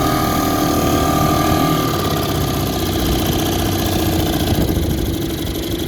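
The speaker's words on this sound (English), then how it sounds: "And this is a 16-to-1 mix motor." A 1954 Clinton Model 40 outboard motor, burning a 16-to-1 mix of non-ethanol gasoline and synthetic oil, runs steadily and loudly close by on a lake test, a continuous buzzing drone with no pauses.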